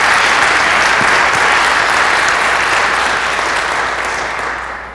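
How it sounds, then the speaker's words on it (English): Loud, dense audience applause for a speaker at an end-of-life talk session, a full sustained clapping that holds steady and begins to fade only near the end. "would you just join with me in giving him a round of applause"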